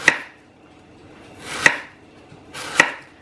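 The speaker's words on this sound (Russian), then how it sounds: "И сейчас яблоко я нарежу на дольки толщиной примерно, наверное, пол-сантиметра." A knife cuts an apple into half-centimetre-thick slices, three crisp separate chops about a second and a half apart, close and distinct with no voices.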